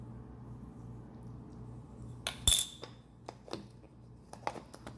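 A metal spoon tipping a tablespoon of sugar into hot chocolate in a pot on a stove, giving a bright clink against the rim over a steady low kitchen hum, followed by a few lighter taps.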